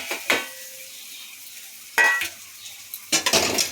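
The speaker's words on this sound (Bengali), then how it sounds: "এবার আলু আর সিম ভাজাটা হয়ে গেছে।" Potato and flat beans in a wok produce three short bursts of spatula stirring and sizzling, separated by quiet stretches, each burst close and fairly loud.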